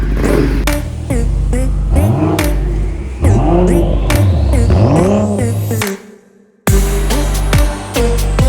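A Mahindra Thar SUV engine revs repeatedly up close, loud throaty roars rising and falling, then a brief drop before it roars again.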